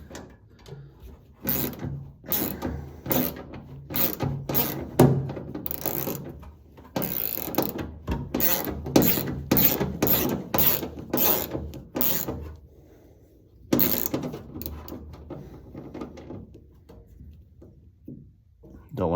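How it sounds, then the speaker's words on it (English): Self-tapping screw driven up through the floor of a 1973 Ford Mustang during brake and fuel line work, heard as loud, close bursts of mechanical ratcheting and whirring, broken by brief pauses. "screw is going up through the floor. This is a self-tapping screw."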